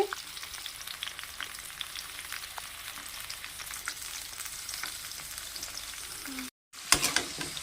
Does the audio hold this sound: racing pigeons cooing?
no